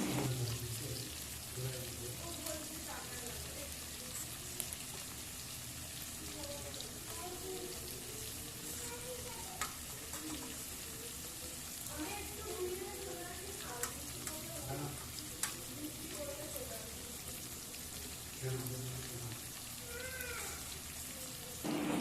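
Bombay duck fish fry in a pan with ginger-garlic paste, giving a soft, continuous, watery sizzle with scattered faint clinks over a long stretch, fairly quiet and close, with no clear voices.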